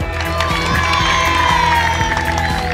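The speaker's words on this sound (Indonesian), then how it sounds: "berikan aplaus yang luar biasa" A large outdoor crowd at a Balinese community rally in Nusa Penida claps and cheers loudly and continuously, with shouting voices and a steady dense roar throughout.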